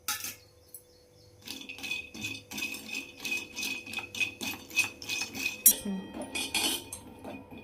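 Cashews, about half a bowl, are roasted in a kadhai with a spoon stirring them around, making steady rhythmic metallic scraping and rattling against the pan, close and fairly loud, with no speech.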